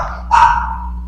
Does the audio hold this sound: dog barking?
yes